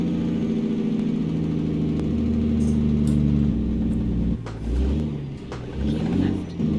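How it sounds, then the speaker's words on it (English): Engine brake on a Kenworth W900 truck in American Truck Simulator, a loud low rumbling, pulsing drone that shifts and revs as the truck slows, with brief bumps partway through. "Hear what the engine brake is."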